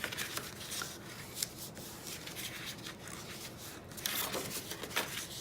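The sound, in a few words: folding cardstock inward along score lines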